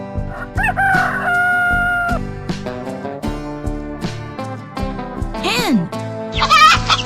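A rooster crows loudly and up close, with a long drawn-out call and further crowing bursts near the end, all over steady background music.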